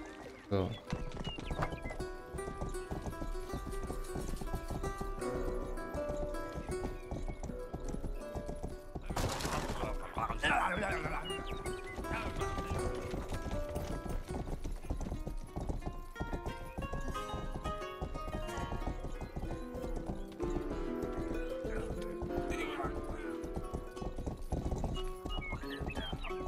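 Horse hooves clip-clopping in the video game Rustler, a steady rhythmic trot that runs through the whole stretch with occasional whinnies, over game music and effects while someone talks.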